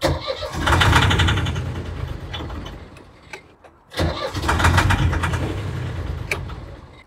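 A diesel engine cranks repeatedly in two long, rhythmic bursts with a short pause between, loud and close, turning over without catching.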